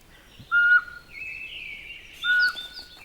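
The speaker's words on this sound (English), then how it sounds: "And the pygmy owl." A pygmy owl gives two short, clear whistled hoots about two seconds apart, each a steady piping note standing out over a soft forest background of faint higher bird chatter.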